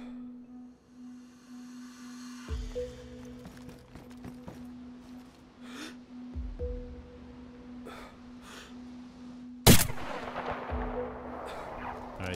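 Distant gunshots in the survival game DayZ thump out as several spaced, muffled reports over a steady electronic hum, with one louder, sharper crack near the end.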